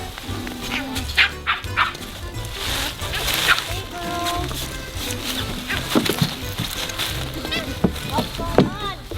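Labrador and Pomeranian puppies barking and yipping as they play over a ball, repeated close barks scattered across the scene, with a person talking at times.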